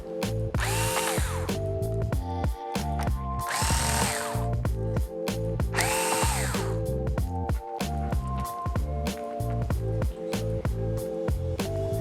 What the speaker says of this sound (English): And then remove the screws underneath of them.